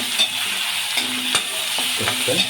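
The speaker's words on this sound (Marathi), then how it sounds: "या ठिकाणी आपण गॅस हायवरती ठेवूया कारण कांदा टाकला आपण" Onion frying over a high gas flame for chicken pota masala makes a steady loud sizzle, broken by a few sharp scrapes and clacks of a spatula stirring the pan, with no talk.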